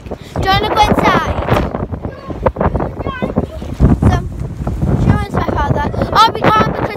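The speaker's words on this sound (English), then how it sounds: "This is really windy." Strong wind gusting outdoors in the snow, buffeting the microphone with loud rumbling bursts while people talk over it.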